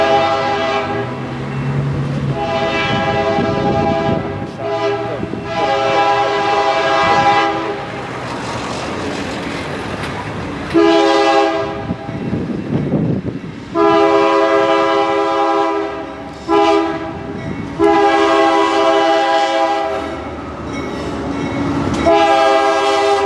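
A CSX freight train rolls past the Coral Way grade crossing on the Homestead Sub in South Florida, its horn blaring in long, loud repeated blasts over steady rumbling and clacking wheels close by.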